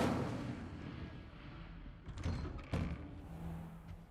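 An Incendio fire spell cast in the video game Hogwarts Legacy, heard as a couple of short muffled bursts that flare up briefly over a low, steady background.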